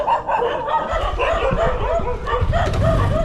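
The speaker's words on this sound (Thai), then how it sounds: "ถวายค่าอาหารให้แล้วอย่าเห่าเด้" A dog barks and whines up close in a hot roadside area of Sa Kaeo, Thailand, with several quick, high yips and whimpers in a row over low rumbling background noise.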